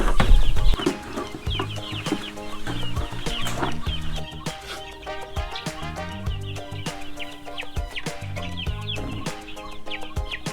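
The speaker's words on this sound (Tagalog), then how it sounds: "That was 95 heads of Dominance CZ F1 layers at 20 heads na rooster naman." Dominance CZ F1 layer chicks and roosters cluck and cheep together in a close, busy, continuous chorus with repeated bright calls throughout.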